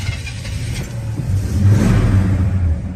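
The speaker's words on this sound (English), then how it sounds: "So we're going to start up our 70 El Camino here for you." A 1970 Chevrolet El Camino engine cranks and catches, its low rumble swelling into a steadier idle over a few seconds, close and fairly loud.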